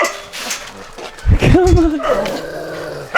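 Dogs at an animal shelter bark and growl while fence fighting behind a barrier, a brief burst of loud, close aggressive barking under a voice.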